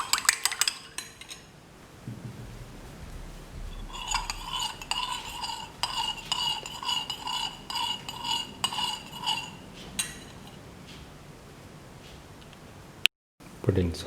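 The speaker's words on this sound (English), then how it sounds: "Thoroughly mix the yellow and the white together." A utensil whisks egg yolk and white together in a bowl, making a run of quick, rhythmic clinks and taps in the middle, with a voice talking around it.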